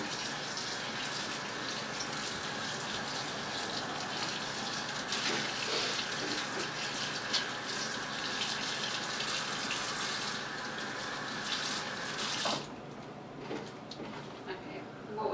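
Tap water runs steadily into a kitchen sink while bowls are washed, a loud constant gushing that cuts off sharply near the end, with people talking over it.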